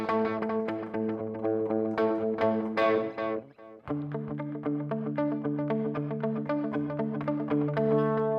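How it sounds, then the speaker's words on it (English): Sustained electric guitar chords washed in a deep, cavernous reverb from a NUX Core series pedal, notes ringing and blending into a long, spacious tail, with a brief dip midway. "So nice cavernous reverb"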